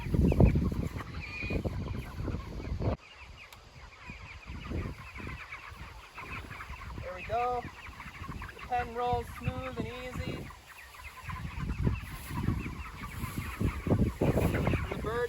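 A flock of broiler and layer chickens walks forward across fresh grass, with repeated close clucking and squawks rising in bursts over a steady outdoor background.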